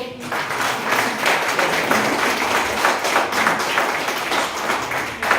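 An audience at a Budget 2023 programme applauds a guest of honor, with dense sustained clapping from a large crowd at close range lasting several seconds.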